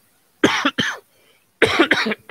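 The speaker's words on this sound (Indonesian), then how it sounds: "Bentar batuk dulu." Two pairs of sharp, harsh coughs, close and loud, separated by a short pause.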